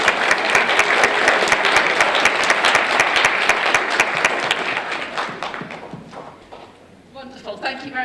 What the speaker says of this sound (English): please, and give them a round of applause.